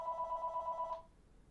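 A telephone rings with a steady electronic two-tone trill for about a second, then cuts off into quiet room tone.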